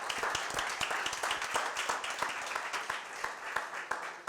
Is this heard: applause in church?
yes